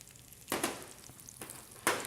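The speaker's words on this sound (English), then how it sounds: "About this time, then we're going to add our garlic in." Garlic added to a hot pan for Mediterranean spinach, sizzling quietly with a few louder bursts of frying as it hits the oil.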